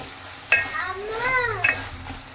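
A spoon stirs brinjal curry in a hot pan with a low sizzle underneath, giving a couple of sharp scraping knocks against the pan and a smooth, drawn-out scrape between them, close and moderately loud.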